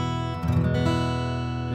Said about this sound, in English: Happy would have a major third, which would sound like this.